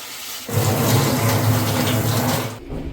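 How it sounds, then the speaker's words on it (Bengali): Tap water running hard over chhena (cottage cheese) being rinsed, a dense steady splashing rush lasting about two seconds before stopping abruptly, close and with no talk. "এরকম ভালো করে দু তিনবার জল দিয়ে ভালো করে ধুয়ে ফেলে দিতে হবে যতক্ষণ না ছানার জলটা সাদা হচ্ছে"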